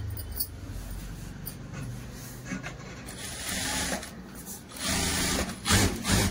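Sewing machine stitching blouse lining cloth, a steady mechanical whir with rattling bursts that grow louder near the end, with no talking.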